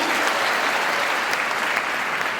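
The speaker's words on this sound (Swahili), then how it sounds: "Makofi." Sustained, dense applause from a sizable crowd at a county assembly introduction of MCAs, steady and loud throughout without a break.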